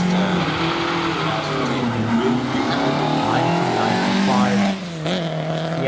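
A 1995 Fiat Uno Turbo Evolved Spec race car powers loudly up a hillclimb course, its engine droning at steady high revs and briefly shifting pitch near the end, with faint voices in the background.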